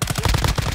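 Rapid automatic gunfire from a video game rattles in a tight, evenly spaced burst of about eight loud, close shots within under a second.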